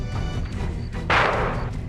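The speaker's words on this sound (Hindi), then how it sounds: "आधा घंटा हो गया, फायरिंग रुकने का नाम ही नहीं ले रही।" A dense, continuous rumble of firing with a loud burst near the middle, heavy low-end boom throughout, sounding like sustained gunfire.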